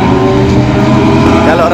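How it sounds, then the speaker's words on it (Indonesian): Roughly thirty race cars circling a circuit track together, a dense, continuous engine roar with layered revving tones, loud and unbroken, with voices talking over it. "sekitar 30 ya mobil di dalam trek berbalapan"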